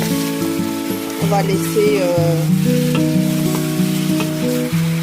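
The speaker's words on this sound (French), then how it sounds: "On va faire revenir notre viande avec les oignons." Beef being browned with onions in a pan for a Cameroonian ndolé with shrimp and beef shank, a steady sizzle and stirring running throughout beneath a voice talking and background music.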